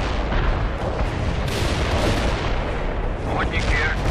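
Artillery fire in the real-time strategy game World in Conflict: a dense, constant roar of battle with booming barrage and overlapping gunfire, loud throughout, with faint radio-style voices blended into the mix.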